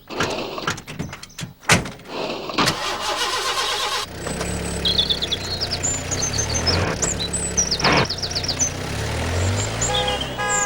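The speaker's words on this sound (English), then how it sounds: "Oh, there's Pat in the post bus." In a classic Postman Pat cartoon, the post bus starts up after a few knocks and clunks, its engine settling into a steady mid-pitched running hum with chirpy whistling tones over it.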